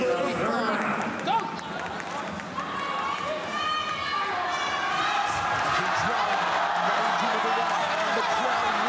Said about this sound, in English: The crowd roars as she does.